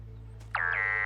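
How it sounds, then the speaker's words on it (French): A phone's new-video notification ringtone, mistaken for a radiation alarm, sounds once as a loud sustained electronic tone with a short rising chirp, played alone over a low steady hum. "Papa Pou, ce n'est pas une alarme, c'est une sonnerie de téléphone."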